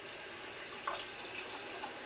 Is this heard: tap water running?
yes